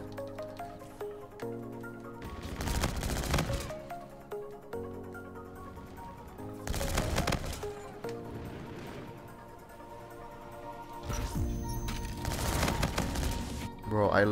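The ARX rifle in Call of Duty: Infinite Warfare fires in three loud, dense bursts of rapid gunfire spaced several seconds apart over steady game music.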